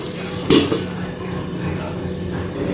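A lid goes onto a pot of vegetables for a taro-stem dalna, a single metallic clatter near the start followed by a low steady simmering hum.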